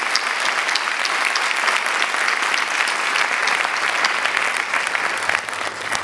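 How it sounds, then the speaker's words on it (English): An audience at a talk in New Delhi gives a big round of applause, dense continuous clapping at a steady, loud level throughout. "So, big round of applause."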